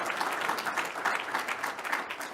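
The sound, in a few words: audience applause after speech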